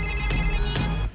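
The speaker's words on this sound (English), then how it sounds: "Let's call her. It's ringing." An electronic telephone rings twice in quick bursts, loud and close, a bright warbling trill over a low hum, in a scene from the Dumb and Dumber 2 trailer.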